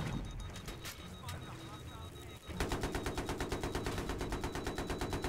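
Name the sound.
gunfire in Battlefield 3 video game tank battle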